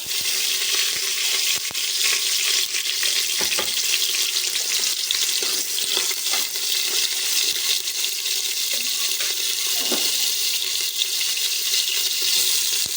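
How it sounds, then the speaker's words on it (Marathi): Marinated prawns hit a pot of whole spices for Kokani kolambi biryani, producing a steady, close, hissing sizzle throughout, dotted with occasional clicks and stirring knocks, with no one speaking. "15 मिनिटं मॅरिनेटेड करत ठेवलेली कोलंबी आता आपण शिजवून घेणार आहोत. खडे मसाले टाकणार."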